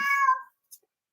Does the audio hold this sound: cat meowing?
yes